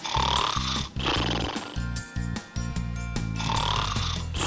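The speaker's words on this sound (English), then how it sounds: "Snoring." Loud rumbling snores repeat in slow, rasping breaths, heard over upbeat background music.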